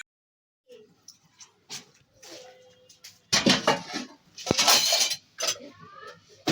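Dishes and cutlery are put away in a home kitchen, with scattered clinks and clatters of pots and utensils, some busier bursts of clanking, heard fairly close with no talking.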